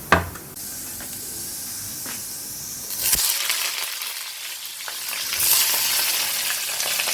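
Eggplant slices fry in a hot pan in a home kitchen, giving a steady close sizzle and hiss that swells louder partway through, with faint clatter and no talking.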